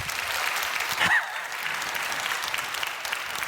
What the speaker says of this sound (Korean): 박수 한번 쳐주지